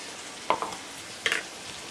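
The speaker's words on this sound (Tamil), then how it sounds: "இந்த இஞ்சி பூண்டு வந்து நல்லா வதங்கணும் வதங்கட்டும்" Ginger-garlic paste sautéing in a pan for prawn pickle, a steady low sizzle with a couple of brief louder spatters or stirring scrapes, close and alone without talk.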